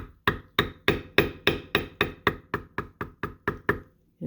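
A mallet strikes a leather beveling tool while shading a wildflower, about fourteen sharp, close knocks in a steady rhythm, each with a short dull thud on the leather.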